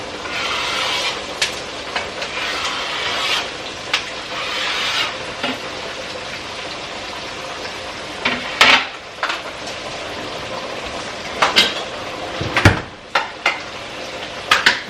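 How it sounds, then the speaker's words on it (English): Vegetables for hamburger soup sizzle in a hot pot with a steady, loud hiss. A spatula scrapes and stirs them, adding sharp metallic clanks and knocks throughout. "Yep, I like that sizzle."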